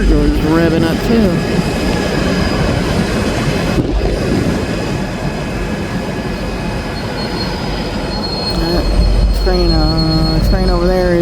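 Railroad cars moving along tracks beside the Mississippi River with loud, sustained high-pitched wheel squeal over a steady heavy rumble, the squealing tones bending and rising again near the end.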